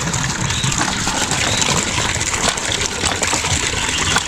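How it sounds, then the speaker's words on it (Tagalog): Water is poured out for pigs on a farm, a steady rushing gush that runs continuously at close range throughout, fairly loud, with no talking over it. "nalagay lang tayong tubig sa baboy"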